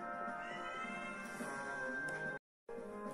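A Pokémon creature in Pokémon Legends: Arceus meowing, a faint catlike call over a soft game background, cut by a short gap of silence.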